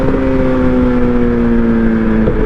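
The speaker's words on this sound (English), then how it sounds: "And this exhaust sounds great." A steady 2008 Suzuki Hayabusa motorcycle engine drones with a low exhaust note, holding a constant hum throughout with a slight rise near the end.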